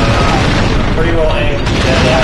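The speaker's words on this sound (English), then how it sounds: "The autocannon is our left armament, Sarge. Pull the trigger to fire." An autocannon fires in the mech video game Steel Battalion, a loud, dense mechanical clatter of rapid shots filling the short stretch without pause.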